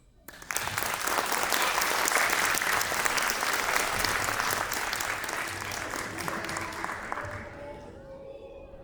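An audience bursts into sustained applause for a winner at a patriotic recitation competition, dense clapping from a crowd that holds steady for several seconds before tapering off.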